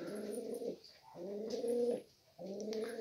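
Pigeons cooing close by in a loft of Turkish Kayserili tumbler pigeons: three low, throaty coos in a row, each with a short pause between, fairly faint, with no talking.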